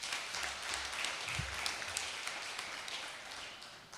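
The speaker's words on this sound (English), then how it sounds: "Another round hand of applause for the" Applause for the Deputy Minister at a social development launch event, a soft, distant, steady wash of many hands clapping across a large room.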